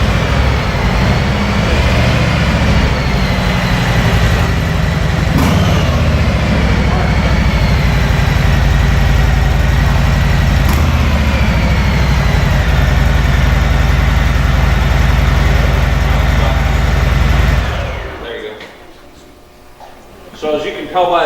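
Harley-Davidson Softail cruiser engines idling close by, a steady low rumbling throb sustained for a long stretch before suddenly dropping away to near quiet, with a voice talking over it.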